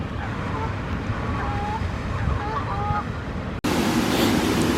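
Steady rush of high, fast-flowing water in a stream in Queens Park in April, a broad continuous wash close by with faint bird calls, louder after a brief cut.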